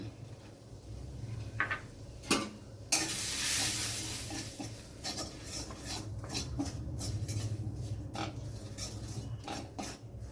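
Gram flour stirred into hot white oil with asafoetida gives a soft, continuous sizzle, broken by sharp clinks and scrapes of a spoon against the pan.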